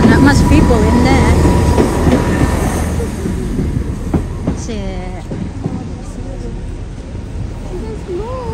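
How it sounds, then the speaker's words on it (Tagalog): A passing train rolls by with rumbling wheels and a few high squeals, fairly close and steady before fading somewhat, while people chat nearby. "train, look at the train"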